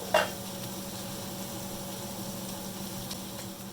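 Chopped onions for a yellow chicken curry sauté in a pan with a steady, gentle sizzle close by, opening with a brief clatter of stirring and then a soft, even hiss with no voices.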